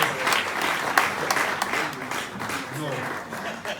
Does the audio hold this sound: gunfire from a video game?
no